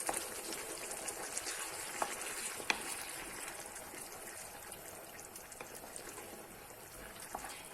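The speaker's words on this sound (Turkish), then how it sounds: "2 yemek kaşığı kadar şu anda salçamın pişmesini bekliyorum biraz." Homemade tomato paste, thinned with water, bubbles and sizzles in a pan at close range. The soft crackling runs steadily, broken by a few sharp clicks and light stirring.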